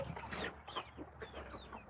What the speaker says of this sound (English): Looks like the hens are going to go in maybe. Alright, there's one hen.